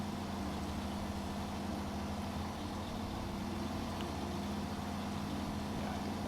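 Steady, low droning engine of a truck hauling a heavy cement load in a snowy driving game, a constant laboring hum with no change in pitch or pause, and no talking.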